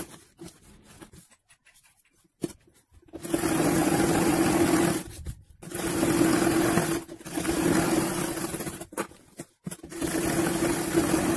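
A sewing machine stitches blouse fabric into a bag in several steady motor-driven bursts, each a few seconds long, separated by short pauses, close and clear with no talking.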